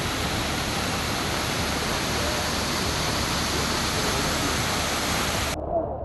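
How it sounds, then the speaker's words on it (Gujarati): A waterfall pours down Osam hill at Patan Vav after heavy rain, a loud, steady broadband roar of rushing water that cuts off abruptly near the end. "ધોધમાર વરસાદને કારણે પાટણ વાવના ઓસમ ડુંગર ઉપરથી ધોધ વહેતો થયો હતો"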